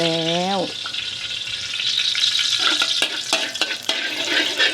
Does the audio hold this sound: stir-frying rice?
yes